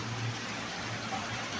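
Steady rain pours down in Kathmandu, heavy enough that water is coming in through a window into a room; the even, close hiss of falling water fills the whole moment with no voices.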